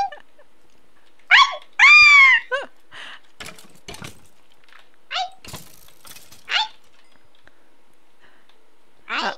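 A dog in the Minecraft video game gives a few short, high whining barks spaced out between quiet stretches and soft game clicks and thuds.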